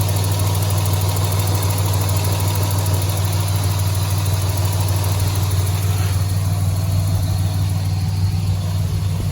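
A Ford EF Falcon's engine idles after an oil change, a loud, steady low rumble with a constant hum and slight mechanical ticking, running alone and unchanged throughout.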